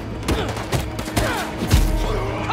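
Gunfire in a Marvel's Spider-Man 2 fight, a ragged run of thumping shots and bursts over a busy mix of game noise, with one heavier blast near the end.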